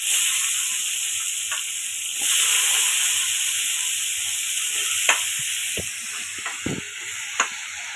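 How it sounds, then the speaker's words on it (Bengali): Boiled jackfruit and potatoes with chopped onion fry in hot oil in a pan, a steady close sizzle with occasional stirring clinks and scrapes, no talking. "এঁচোড় আর আলু ভাজা ভাজা হয়ে গেছে।"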